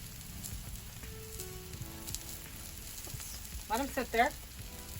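Avocados sear on a hot grill with a soft, low sizzle, while someone talks briefly near the end.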